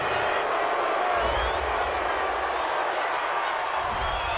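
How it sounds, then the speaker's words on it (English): Home crowd at a Cleveland Browns vs Buffalo Bills NFL game roars steadily and loudly across a large stadium, a continuous wash of cheering with no break. "This home crowd, they're happy with that call"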